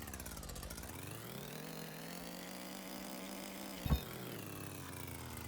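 Virtual dirt bike engine in a VR game running steadily with a buzzing, rising then settling tone, a brief clunk as it shifts into first gear near the end.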